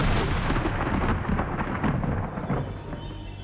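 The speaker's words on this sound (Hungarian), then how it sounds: "majd Marley beleállít egy fénypóznát, amibe belecsap a villám, és a szörny kimúlik" Lightning striking a light pole in a horror film scene, heavy rumbling thunder with crackling booms that fills the whole stretch loudly and slowly fades toward the end.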